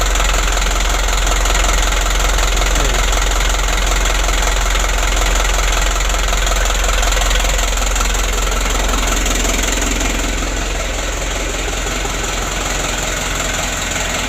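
Badly worn engine of a 2016 Hino Dutro 130 HD truck running, a loud, continuous idle with a rough knocking throb and steady rattling vibration, close and unbroken throughout.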